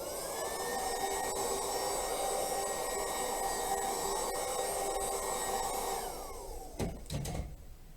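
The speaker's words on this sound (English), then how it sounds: "You want to make sure that you keep the blow dryer moving at all times." A handheld blow dryer drying fresh paint gives a steady, loud, breathy whoosh for about six seconds before it cuts off, leaving a few brief knocks and rustles. No one speaks.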